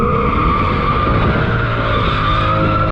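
A Mercedes W204 C63 AMG coupe with its 6.2 V8 drifting, delete mods and X-pipe fitted, its tires squealing in one long continuous skid over a loud engine drone that holds for about three seconds before cutting off.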